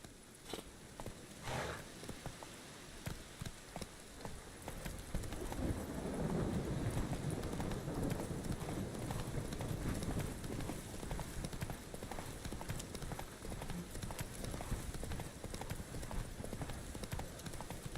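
A horse in The Witcher 3 clip-clops in a quick, steady hoofbeat rhythm, fairly faint, with brief louder thumps early on.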